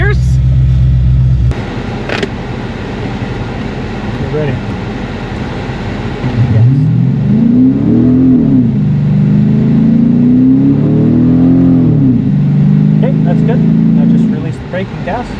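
A family car is revved ahead of a drag race: the engine note climbs, rises and falls in two sweeping revs, then holds at a loud idle, with voices heard nearby.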